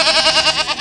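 A bleating sheep voice from a farm animal toy, one loud wavering cry held close and alone.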